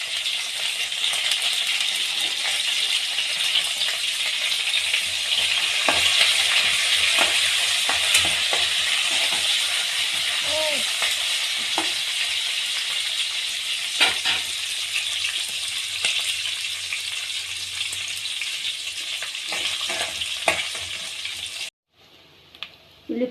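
Two sprigs of curry leaves sizzle and fry steadily in hot oil, a loud continuous crackle with occasional stirring clicks, ending abruptly near the close.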